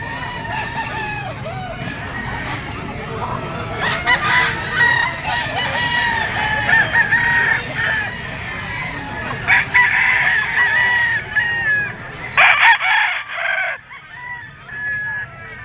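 A Sweater gamefowl rooster crows repeatedly and loudly nearby, long strained calls over a busy outdoor farmyard with other fowl and someone talking intermittently.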